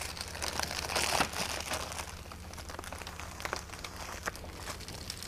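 Paper masking peeled slowly off a mixed media art postcard, giving soft crinkling and tearing rustle with a louder burst near the start, close and without speech.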